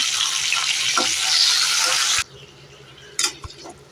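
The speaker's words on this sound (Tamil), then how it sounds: "இது கூட ரெண்டு தக்காளி பழம் வச்சுருக்கு அதை போட்டு வதக்கிக்கலாம்" Tomatoes sauté in hot oil in a pan for a Chembara fish curry, giving a loud, steady sizzle that cuts off abruptly after about two seconds, then a few clattering knocks of a utensil against the pan.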